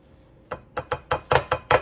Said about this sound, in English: whisk this up